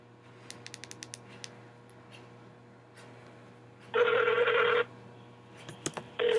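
Telephone dialing tones: a quick run of short keypad beeps, then a longer steady tone burst and another brief tone near the end, heard alone over a low background hum.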